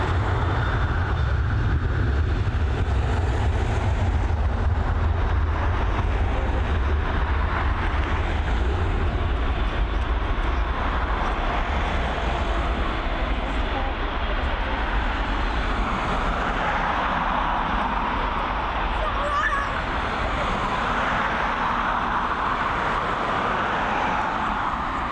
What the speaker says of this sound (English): FR4844 heading over to Milan, another Boeing 737.